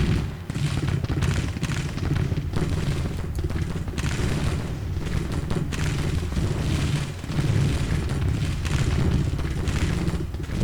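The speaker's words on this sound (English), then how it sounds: "Reynolds is under artillery fire." Steady booming artillery fire rumbles through a Civil War battle in Grand Tactician, loud, dense and continuous, with repeated heavy blasts layered over a constant roar.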